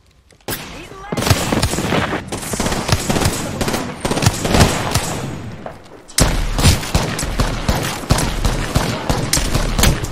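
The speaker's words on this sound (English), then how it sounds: "That's their airstrike, right?" An airstrike in the video game Apex Legends, a dense run of heavy explosive blasts and booming impacts that keeps going loudly, under brief talk.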